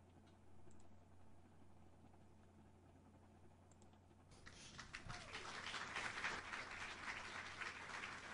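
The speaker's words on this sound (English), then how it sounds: "That's the very definition of tepid applause." Faint, tepid applause from a small audience: near silence at first, then a thin scattering of claps starts about halfway through and stays subdued and uneven.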